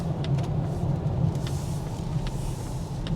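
A Polestar 2 electric car drives through a roundabout on a wet road, giving a continuous low rumble of tyre and road noise from inside the cabin, with faint ticks over it and no talk.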